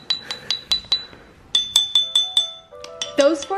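Glass beer bottles struck one after another as a makeshift xylophone, ringing clinks in quick, steady sequences that shift pitch from bottle to bottle, close and bright, with a few tones sustained near the end.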